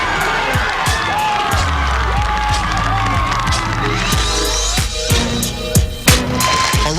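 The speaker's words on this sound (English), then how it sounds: "A round of applause for Todd Doxey." Crowd cheering and applause at an awards induction ceremony, a loud, continuous din of shouts and whoops with sharp claps running throughout, some voices rising above the mass.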